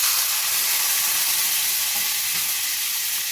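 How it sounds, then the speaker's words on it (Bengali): Chopped onion and tomato frying in hot oil with spices, a loud, continuous close sizzle and hiss with no voices. "এবার আমি যে পেঁয়াজ আর টমেটোটা কেটে রেখে দিয়েছিলাম সেটা আমি দিয়ে দেবো।"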